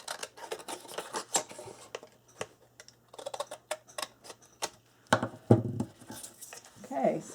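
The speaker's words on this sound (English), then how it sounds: "And I'm just going to take my scissors." Scissors cutting chipboard in a paper-craft session, a series of sharp snipping clicks scattered across the stretch, louder crunchy cuts near the end, with a voice talking intermittently.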